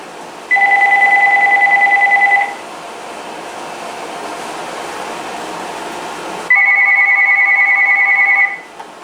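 A Uniden EXA915 900 MHz cordless telephone rings on a test call, two loud electronic trill bursts of about two seconds each separated by a pause, clear and close with no talking.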